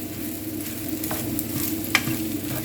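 Potatoes fry for a potato kebab, browning in a smoking hot pan with a dense, loud, continuous sizzle and a few clicks of a utensil against the pan.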